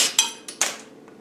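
A pneumatic pop rivet gun sets rivets on Land Rover work, giving sharp, close metallic snaps, three or four quick cracks with short ringing decay in a quiet space.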